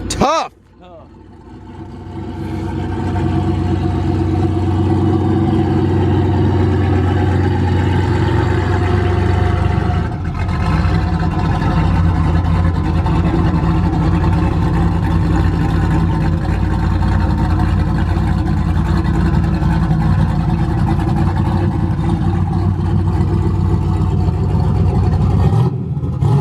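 A turbocharged Ford Ranger pickup with an LS V8 swap idles with a steady, loud low rumble that continues unbroken after a sharp start, with a brief dip near the middle and speech faintly over it.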